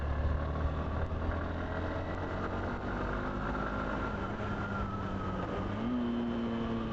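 A Hero Xtreme 160R 160cc motorcycle engine runs steadily nearby with a low, grunty drone and a slight rise in pitch toward the end, continuous and unaccompanied by talk.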